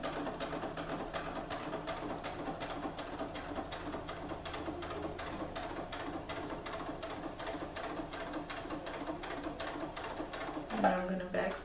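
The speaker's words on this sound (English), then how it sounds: "just go ahead and sew our straight stitch" Domestic sewing machine running a straight stitch through chiffon fabric for a girl's skirt, a steady fast mechanical whir with rapid needle ticks running continuously close up, ending in a brief clatter.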